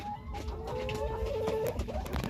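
Ten hybrid egg-laying hens about 18 weeks old cluck and call softly at close range, with a steady run of short, low clucks and a few brief higher notes.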